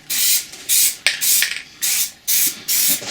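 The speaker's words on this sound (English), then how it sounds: "Spray around the edge." Close, loud bursts of aerosol Plastidip spray paint hiss in repeated half-second pulses with brief pauses between them, five or six in a steady rhythm, coating car wheels.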